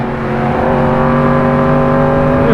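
A Yamaha R1M superbike on a race track holds a loud, close, high-pitched engine note that climbs steadily in revs across the whole short stretch.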